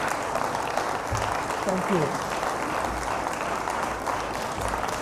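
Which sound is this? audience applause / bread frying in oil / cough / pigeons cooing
audience applause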